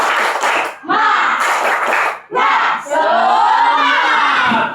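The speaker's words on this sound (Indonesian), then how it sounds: "Coba tepuk semangat." A group of Indonesian schoolchildren in a classroom performs the 'tepuk semangat' chant, three loud rhythmic bursts of shouting and clapping close by, with the last one sustained and shouted in unison.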